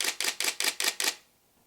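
A Nikon D3-series camera shutter fires six rapid, evenly spaced clicks in burst mode at 12-bit RAW, crisp and close, then stops into near silence.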